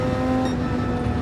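Steady engine drone from a Dodge Viper race car in Gran Turismo 7, a loud continuous tone held without change across the moment, with no voices.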